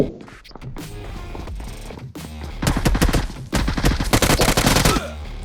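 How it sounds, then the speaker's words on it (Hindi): Gunfire in the mobile battle-royale game BGMI (PUBG Mobile): scattered single shots first, then long loud automatic bursts of rapid cracks, close and dominant, with no talk. "और भाई कौन सी बंदूक चला रहा था भाई"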